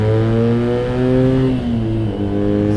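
A BMW R NineT motorcycle engine revs steadily upward under full throttle from 70 to 110 km/h, its droning tone climbing in pitch, loud and close, with a brief dip as it shifts.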